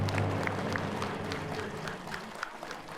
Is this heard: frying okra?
no